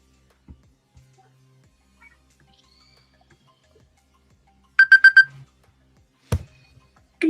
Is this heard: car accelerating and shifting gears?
no